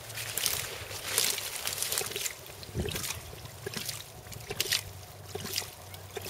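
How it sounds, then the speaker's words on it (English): Hydraulic ram pump running a little fast, with water sloshing and trickling and faint rhythmic knocking pulses at irregular intervals, close but fairly quiet. "Here's the second ram pump. Running a little bit faster."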